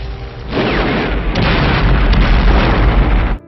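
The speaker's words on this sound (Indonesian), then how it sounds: "Bom pun dijatuhkan." A massive bomb blast from a Vietnam War film tears through the air as a loud, sustained roar of rumbling debris and low booming that fills several seconds without any voices.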